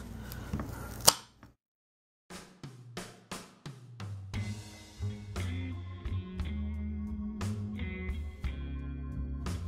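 A kitchen knife chops carrots into big chunks on a cutting board: a string of sharp, close taps with short pauses between them, each cut ringing briefly, with no voices.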